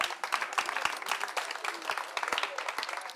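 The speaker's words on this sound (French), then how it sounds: "On l'applaudit jusqu'à ce qu'elle arrive." Studio audience applauding at a French-language talk show as a guest walks on, steady dense clapping throughout.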